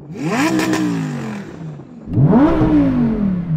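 A Lamborghini Huracan STO's 5.2-litre naturally aspirated V10 revs twice, each a loud close rise in pitch followed by a falling, crackling decay.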